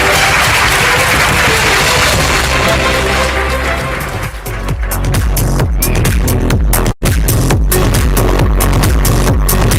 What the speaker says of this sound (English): a bigger round of applause.